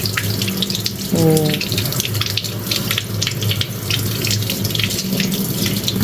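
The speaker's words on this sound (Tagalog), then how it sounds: "Maghuhugas tayo ng mangga." Water runs steadily from a kitchen tap while mangoes are washed under it, a continuous splashing gush, with brief speech partway through.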